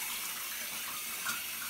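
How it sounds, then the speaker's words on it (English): Water runs steadily from a tap into a tub or sink while a dog gets its first bath at a new house, a quiet, continuous hiss close by. "we are taking Jack to his first bath at the new house"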